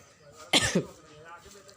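A person with a lingering cough that flares up while talking lets out a sharp, close cough of two quick bursts, loud against an otherwise quiet room.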